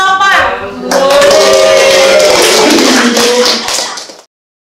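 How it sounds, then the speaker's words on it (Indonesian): Clapping for team 28 after a classroom quiz rings out as a dense, steady patter of many hands lasting about three seconds, following a brief voice at the start, then stops abruptly. "tepuk tangan untuk tim 28"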